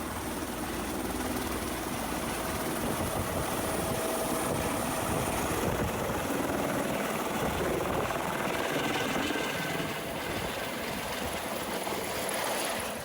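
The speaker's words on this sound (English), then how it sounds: "We're gonna pause and let the helicopter leave and we'll be back to you." An air ambulance helicopter lifts off and departs, its steady rotor thrum and turbine whine loud and continuous throughout with no talking.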